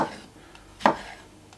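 A single crisp knife cut through soft miniature tomatoes on a board, one short near thud standing out against a quiet background.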